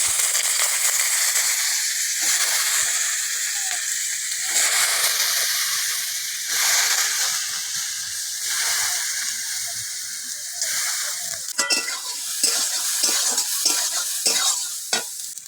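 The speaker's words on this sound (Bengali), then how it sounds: "সয়াবিন বড়িগুলো একটু লাল লাল করে এরকম ভাবে ভেজে নিতে হবে।" Soybean chunks frying in oil in a kadai, a continuous loud sizzle broken by repeated bursts of stirring and scraping with a spatula, close up and with no voices.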